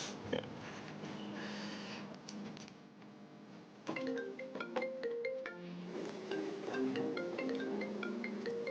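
A mobile phone rings with a melodic electronic tone, playing bright repeated notes that grow steady and continuous in the second half. The ringing is close, with no talking over it.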